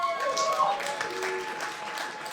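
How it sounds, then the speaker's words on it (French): Audience applause at a comedy show, a brief spread of clapping mixed with voices and cheers from the crowd. "j'ai vu des filles applaudir"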